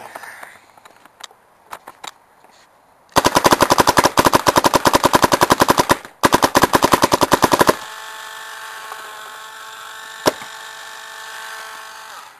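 A 2009 Invert Mini paintball marker rips off two rapid bursts of sharp, closely spaced shots, loud and near, with a brief pause between them. A single faint pop follows later over a steady hum.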